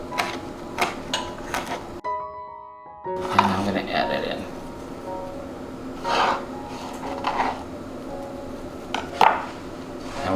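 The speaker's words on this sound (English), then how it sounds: "Got my knife right here, just going to chop some up." A knife chops fresh rosemary and thyme on a board, producing a few distinct, spaced thuds and knocks against a background of talking, with a brief near-silent gap early on.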